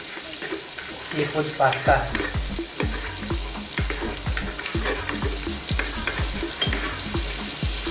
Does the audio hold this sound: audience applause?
no